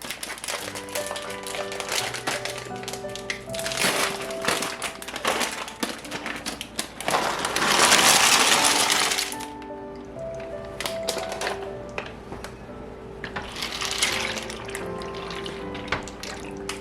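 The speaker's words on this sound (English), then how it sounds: "And then we're gonna add in our noodles." Gluten-free brown rice rigatoni is poured into a crockpot, the dry pasta clattering and rattling in quick sharp bursts with a louder rushing spill midway, all close up with no speech.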